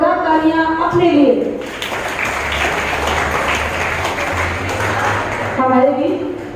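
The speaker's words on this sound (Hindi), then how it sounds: "बच्चों, एक बार जोरदार तालियां अपने लिए।" Students break into a burst of loud applause at a school farewell party at Swami Vivekanand Vidyalaya, Kurla, sustained clapping for several seconds framed by a voice speaking over a microphone before and after.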